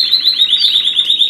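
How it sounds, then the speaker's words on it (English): Pet canaries trill loudly and continuously indoors, a fast, shrill warbling burst that fills the whole brief moment without any talk. "sorry about that noise, it's my canaries."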